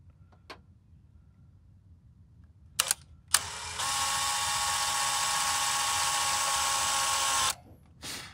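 A power drill bores a pilot hole into the fiberglass grille of a Jeep XJ. It starts with a couple of short clicks and brief bursts, then runs as a steady, fairly loud whine for about four seconds and stops abruptly.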